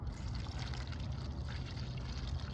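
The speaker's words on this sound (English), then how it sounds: "So my DI water, start pouring a little bit of it in there" Deionized water pouring into a soil sample to form a slurry for a lysimeter installation, a faint, steady trickling splash lasting a couple of seconds with no talking.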